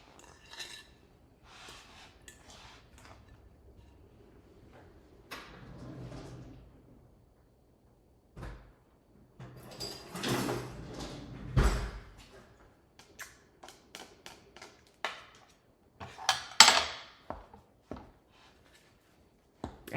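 A spoon scraping and clinking around a bowl while mixing a potato pizza mixture, with intermittent knocks and scrapes, fairly close, quiet gaps between bursts.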